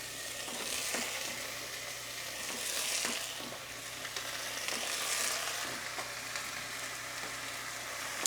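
Tomatoes tossed into a pan of sautéing onions and garlic, a constant close sizzle with scraping stirs and a few soft clatters as the food hits the hot oil.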